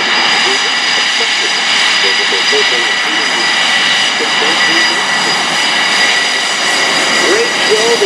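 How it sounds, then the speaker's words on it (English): An F/A-18F Super Hornet jet roars past at a Rhode Island Air National Guard airshow, a loud continuous engine rumble and whine that holds steady throughout, with crowd voices underneath. "Awesome to see Purple flying the F-18 Super Hornet right there"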